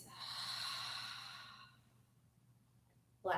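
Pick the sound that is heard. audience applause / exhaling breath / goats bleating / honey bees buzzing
exhaling breath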